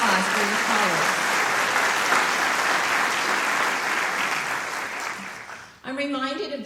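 A large convocation audience claps loudly and steadily for college colleagues, the sustained applause fading out near the end before a voice starts speaking.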